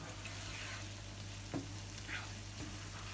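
Paella sizzles steadily while frying in a pan, a dense, even hiss with a faint stir or two, close and continuous with no voices.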